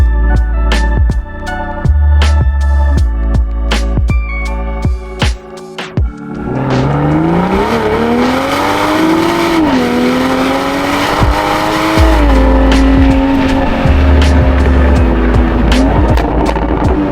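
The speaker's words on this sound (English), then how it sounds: "how do I record the audio of the Supra?" A Toyota Supra's engine and exhaust are captured at the rear bumper: rhythmic clunks while idling, then a loud, close revving drone that climbs and settles as the car accelerates and cruises.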